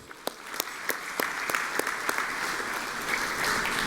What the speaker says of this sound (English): I think all of you here deserve a round of applause.